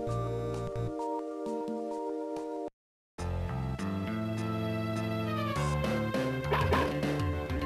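Dog barking from the video game Mother 3, delivered as game sound effects over steady background music, with a short silent gap before the track resumes.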